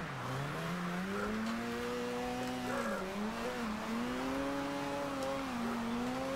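A Mazda RX-7 in the video game Forza Horizon 2, drifting in rain and darkness, its engine droning and wavering in pitch while tires squeal steadily throughout, with no talk.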